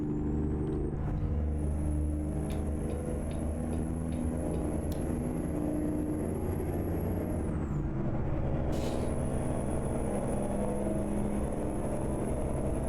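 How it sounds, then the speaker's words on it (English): Peterbilt 352 semi truck hauling a trailer in American Truck Simulator: a steady low engine drone runs throughout, with a high whine above it and a brief hiss near the middle. "Oh, this one's a semi."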